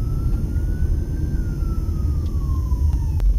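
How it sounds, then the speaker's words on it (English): A fire truck siren wails faintly in the distance at a city intersection in Las Vegas off the Strip, its pitch rising and then falling over a loud, steady low rumble of traffic and idling engines. "a fire truck is crossing right in front of us here"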